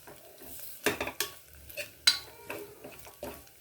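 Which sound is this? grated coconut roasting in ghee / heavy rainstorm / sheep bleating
grated coconut roasting in ghee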